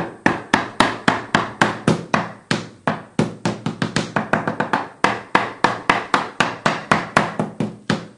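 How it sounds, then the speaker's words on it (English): Termites inside a wooden wall make rapid, irregular dry clicking and tapping, close and fairly loud, coming in dense bursts with no talking. "So termites are certainly in this room as well."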